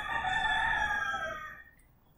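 A single rooster crows loudly and close, one long drawn-out call that trails off into quiet near the end, in a mid-afternoon backyard flock of chickens and roosters.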